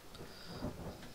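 Thunderstorm ambience in the survival video game The Forest: a low, distant rumble under steady rain noise, faint and continuous with no voices.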